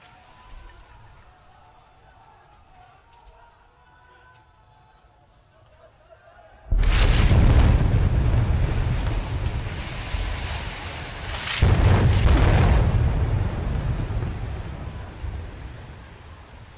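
A partially demolished building in Gaza collapses in a sudden loud roaring rumble that swells after a quiet stretch, followed by a second heavy surge of crashing debris noise.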